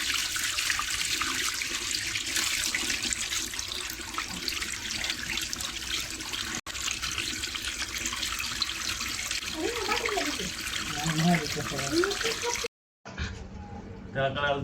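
Water from a motor pump rushes through a pipe in a steady, loud flow while people talk over it, then cuts off abruptly near the end.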